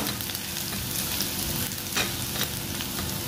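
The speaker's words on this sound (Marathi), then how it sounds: "तेलामध्ये असं लसूण छान परतून घ्यायचे" Garlic sautéing in hot oil in a pan gives a steady, dense sizzle and crackle, close and continuous with small pops, and no voices.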